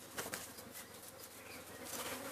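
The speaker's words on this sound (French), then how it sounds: "c'est pas des abeilles très calmes" Agitated honeybees swarm around an opened hive frame holding the queen at an apiary, a dense continuous buzzing hum that swells and fades as bees pass close, with no talk.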